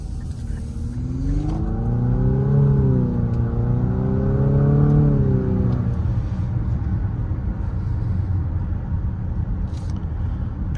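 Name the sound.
2024 Infiniti QX50 Sport CVT accelerating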